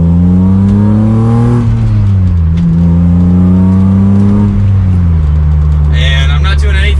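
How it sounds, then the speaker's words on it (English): A BMW M3 pulls hard from second gear, its engine note climbing steadily and loud up close, dipping briefly at a shift before rising again, with a sharp higher-pitched whine near the end. "Give it another acceleration from second."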